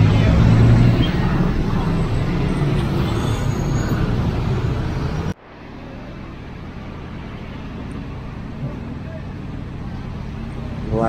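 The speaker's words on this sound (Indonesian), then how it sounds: "yang dari arah barat mau ke timur tambah macet lagi dikit" Congested traffic crawls across the Tlogomas bridge, giving a dense, loud roar of engines and road noise that drops abruptly to a softer, steady hum partway through, with a voice talking nearby.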